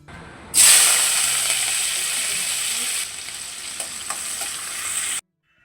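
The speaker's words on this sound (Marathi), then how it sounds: "अर्धा मिनटं लसूण मिरची आणि कढीपत्ता तेलात परतून घेतल्यावरती" Garlic, chilies and curry leaves fry loudly in hot oil, a bright steady sizzle that starts abruptly, eases slightly midway, and cuts off at the end.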